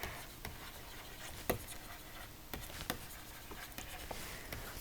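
Chalk or pen writing numbers during a statistics lecture, soft scratchy strokes with a few sharper taps, close and quiet with no talking.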